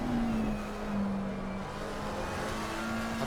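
Race car at full throttle at Spa-Francorchamps in the racing game Assetto Corsa Competizione, a steady loud engine drone with a rising then settling pitch, heard alone with no talk.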